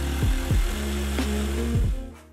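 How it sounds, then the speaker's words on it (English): A jigsaw cuts a hole through a wooden offcut, giving a steady, close motor buzz with a rapid reciprocating blade rattle that holds throughout, then dies away at the very end. "Using a piece of offcut, I mark out the size hole I need for the post and cut with a jigsaw"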